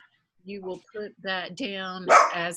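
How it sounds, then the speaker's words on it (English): Dogs bark indoors during an online nursing Q&A session, short yaps breaking through a person talking steadily over them. "excuse my dogs"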